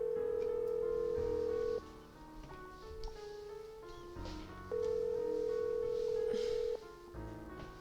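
In the Nancy Drew game Message in a Haunted Mansion, a telephone is dialed and rings. Two long, steady ring tones sound over faint background music, separated by a quieter gap.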